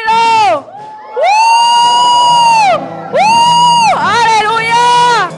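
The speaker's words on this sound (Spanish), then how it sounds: "Un grito, Julio." A congregation at a Spanish-language praise worship service lets out loud, sustained shouts and whoops in a few long swelling bursts with short gaps between them.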